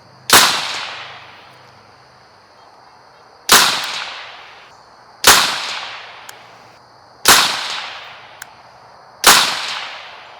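Five sharp, loud gunshots from a Bear Creek BC-202 .22 WMR rifle, spaced about two seconds apart, each a crisp crack with a short decaying tail outdoors.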